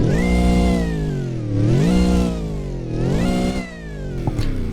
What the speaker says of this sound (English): Why don't we do a rev test though?